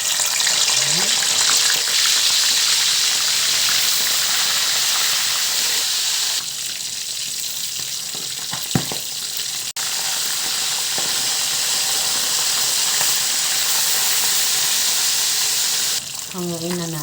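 Milkfish steaks sizzle and fry steadily in a hot pan, with a continuous loud crackle and hiss that briefly softens midway before picking up again, a few utensil clinks near the end.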